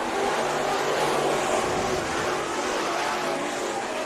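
Race cars roar around Bakersfield Speedway during a heat race, a steady loud engine drone that holds for the whole span with no break, no single car standing out.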